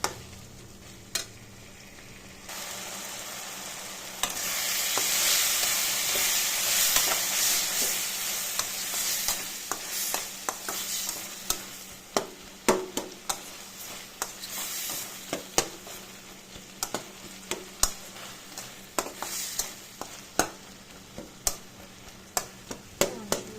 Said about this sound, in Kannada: ಟೊಮೆಟೊ ಸಾಫ್ಟ್ ಆಗೋವರೆಗೂ ಫ್ರೈ ಮಾಡೋಣ